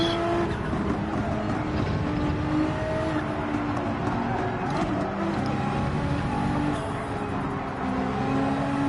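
A race car lapping Suzuka in a racing video game, its engine droning loudly and continuously with shifting revs through gears and corners, steady from start to finish with no talk.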